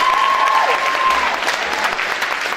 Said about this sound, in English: Can we hear a round of applause for Max Dunkelberg?